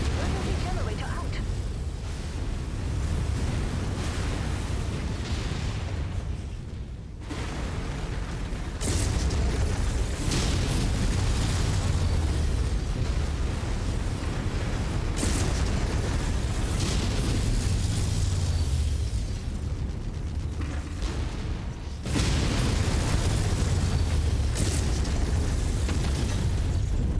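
In a mech combat game, a war reserve burns and explodes: loud, dense rumbling blasts and crackling bursts fill the whole stretch, with several sharp new booms breaking in along the way.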